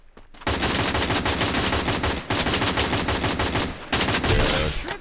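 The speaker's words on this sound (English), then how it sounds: "Ooh, there's some gunfire." Rapid bursts of automatic gunfire from the battle royale video game Free Fire, loud and dense, running almost continuously with two brief breaks.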